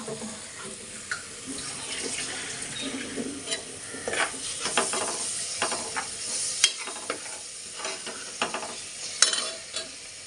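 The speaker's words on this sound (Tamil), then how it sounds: "கோல்டன் கலரில் இன்னும் வரல, அதனால் திரும்ப வதக்கிக்கிட்டே இருக்கணும்." Onions with ginger garlic paste sautéing in a pan, a soft continuous sizzle broken by repeated clicks and scrapes of a spoon stirring against the pan, close by and without talk.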